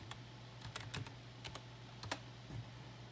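Keys clatter on a computer keyboard as a login is typed, a quiet run of irregular clicks over a steady low hum, with no talking.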